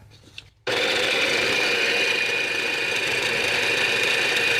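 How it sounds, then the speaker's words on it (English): A blender whirs steadily and loudly as it purées chicken bun filling, starting abruptly after a moment of quiet and running without pause. "Time to blend her up."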